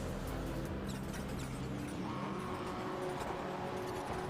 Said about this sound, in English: Engines rev though as the lights illuminate for the final time for some of these cars.